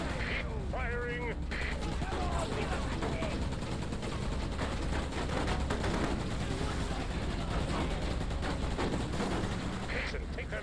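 Gunfire in the Xbox game Roadkill, dense rapid bursts of shots rattling continuously throughout, mixed with distant blasts and battle noise, a voice briefly calling out near the start.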